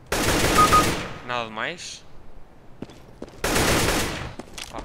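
Gunfire in the video game CS:GO, two loud dense bursts of automatic fire separated by a quieter stretch with a short spoken phrase and a few faint clicks.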